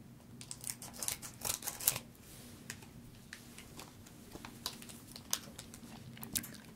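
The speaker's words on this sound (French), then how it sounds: "le premier booster, nous allons l'ouvrir et découvrir son contenu" Pokémon booster pack being torn open, with crisp foil crinkles and sharp snips in scattered bursts, close and quiet, trailing off into sparse rustles.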